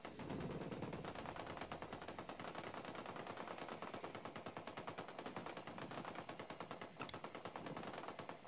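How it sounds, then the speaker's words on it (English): Continuous rapid automatic gunfire in Ghost Recon Wildlands, a steady rattling stream of shots held at an even level for several seconds, with no talking over it. "I'm opening fire."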